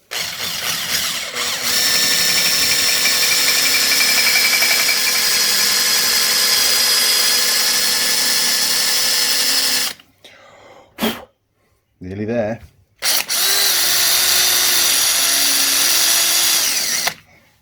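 A power drill whines steadily, drilling out a rounded screw head while a failing Warn Industries contactor is taken apart, a long loud run that breaks off into short bursts before resuming, with brief speech in between.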